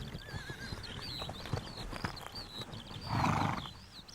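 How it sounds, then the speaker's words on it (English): Wild stallions in a meadow call out, with a drawn-out neigh swelling loudly near the end, preceded by scattered hoof thuds and softer snorting and whinnying across the open field. "The stallions are still competing with each other, but now only vocally."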